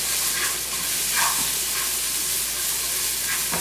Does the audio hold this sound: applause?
no